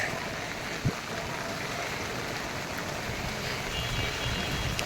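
Steady rain pouring outdoors on a windy street, a continuous broadband hiss with no break, close and fairly loud, with a single brief thump near the start.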